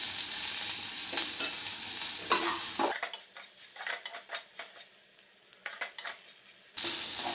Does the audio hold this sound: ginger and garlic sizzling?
yes